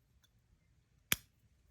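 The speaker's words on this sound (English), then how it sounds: "cut the yarn" A single quick, crisp snip of scissors cutting crochet yarn sounds close and quiet in an otherwise still room.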